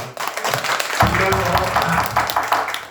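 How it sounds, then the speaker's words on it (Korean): Temple congregation applauding for a visiting family during a Buddhist memorial service sermon, a dense burst of clapping starting about a second in and continuing loud and close, with a speaking voice over it. "우리 박수 한번 줘요"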